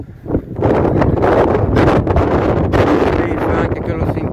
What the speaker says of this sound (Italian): tra l'altro c'è un po' di vento.